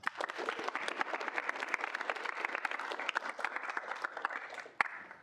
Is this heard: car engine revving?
no